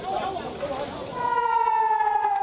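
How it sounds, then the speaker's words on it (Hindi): An air raid warning siren in southern Israel rises out of a second of rough background noise into a steady, loud, sustained wailing tone. "उधर गुज़श्ता 48 घंटों में इसराइल के जनूबी इलाकों में ख़तरे के सायरन भी मुसलसल बजते रहे।"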